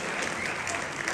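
Loud, dense applause from an audience at an Indian awards event, a continuous wash of clapping heard in a short burst.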